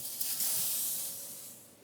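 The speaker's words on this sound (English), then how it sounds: "when you remove the lid to angle it towards you so that the steam doesn't come right" Steam hisses as the lid comes off a steam canner while berry jam jars are processed, a loud, bright rush that starts strong and gradually fades over a couple of seconds.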